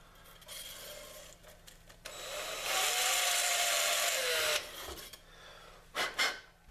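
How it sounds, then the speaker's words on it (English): A reamer spins through an EVA foam fishing rod grip, giving a few seconds of loud, steady abrasive whirring. Softer rubbing and scraping come before it and a couple of brief knocks follow. "just running it through one more time and lightly spinning it will be enough"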